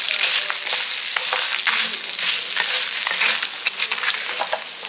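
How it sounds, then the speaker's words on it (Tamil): Chopped shallots and three dried red chillies sauté in oil, a loud, continuous close-up frying hiss with crackles and stirring scrapes throughout. "எல்லாமே இந்த எண்ணெயிலே வதக்கிடணும்"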